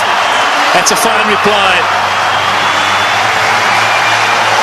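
A home crowd at a cricket match applauds a batsman reaching his fifty, producing a steady broadband wash of clapping and crowd noise under a commentator's continuous talk.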